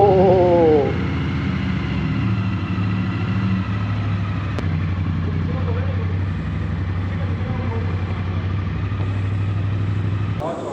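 A Triumph Bonneville 900 motorcycle engine idles with a steady, throbbing low rumble, loud and close, running continuously with a brief voice at the start.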